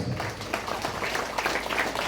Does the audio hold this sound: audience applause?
yes